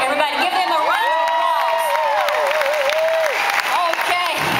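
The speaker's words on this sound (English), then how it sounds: "Everybody give them a round of" Audience at an Arbonne event in Cancun applauding and cheering, with sustained broadband clapping, whoops and shouts from a large crowd across the whole stretch, loud and close.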